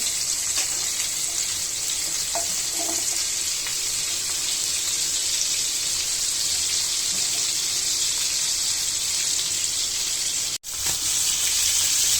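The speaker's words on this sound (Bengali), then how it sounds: "তাই অল্প আঁচে ভাজতে হয় যেন মাংসের ভিতরে ভালোভাবে হয়" Surma fish, a fleshy fish, frying over low heat in a pan gives a steady, loud, dense broadband sizzle that holds unbroken for about ten seconds, drops out briefly, then resumes.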